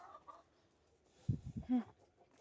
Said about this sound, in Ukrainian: Чорний ти що теж півень? йо моє я думала, ти курочка.